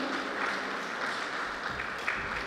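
Steady audience applause fills a Raksha Bandhan Sneh Milan gathering at Shanti Shikhar, Naya Raipur, a dense, even wash of many hands clapping at moderate loudness throughout.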